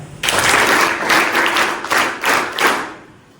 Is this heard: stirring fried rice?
no